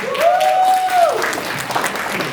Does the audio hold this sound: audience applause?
yes